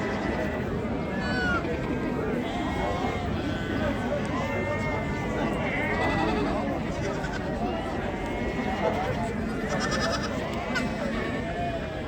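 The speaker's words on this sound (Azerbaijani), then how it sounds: "Balalı keçilər." Goats with their kids bleat over and over at a busy sheep and goat market in Ganja, overlapping calls rising above a steady crowd murmur and voices throughout.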